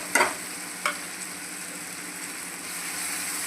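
A spoon stirs spices into matar paneer simmering in a pan over low heat, with two short scraping clinks at the start over a soft continuous sizzle.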